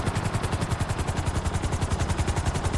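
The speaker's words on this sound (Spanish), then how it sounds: "ya que estoy en el helicóptero" Helicopter flying in GTA Online during a Cayo Perico heist prep mission, its rotor chopping in a steady, rapid, loud rhythm with continuous engine whine throughout.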